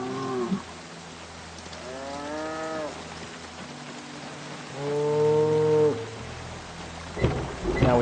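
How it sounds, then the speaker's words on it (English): Cattle mooing in the Project Zomboid video game, three long, drawn-out moos spaced a few seconds apart, fairly close, over a soft background of rain and distant rumbling thunder. "we are going to milk these cows. Noisy cows."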